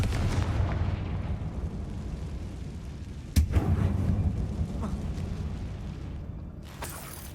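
Explosive blast from a Confringo fire spell in Hogwarts Legacy, a sharp boom about midway over a rumbling background, followed by a fainter burst near the end.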